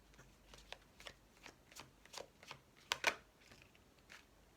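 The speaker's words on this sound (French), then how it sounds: "j'ai beau mélanger les cartes" Tarot cards being shuffled, a run of soft papery riffles and flicks with a couple of sharper snaps near the end, close and quiet with no talking.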